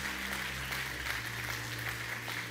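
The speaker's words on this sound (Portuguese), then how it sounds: "Você pode dar uma salva de palmas." A church congregation applauds through the whole stretch, a steady dense wash of clapping at moderate level over a sustained low organ or keyboard drone.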